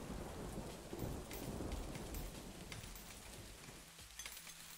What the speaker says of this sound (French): Ah, ben une pluie de jetons.